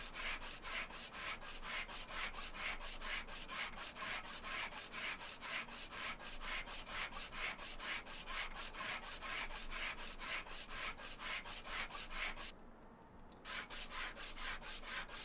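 Metal sanding on a car in the Car Dealer Simulator game gives a steady run of rapid, rhythmic scraping strokes with one brief pause near the end, then resumes. The strokes are even and fairly quiet.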